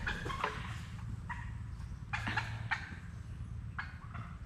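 Turkeys gobble repeatedly in short bursts at a sawmill, several calls rising over a steady low rumble of background noise, moderately close.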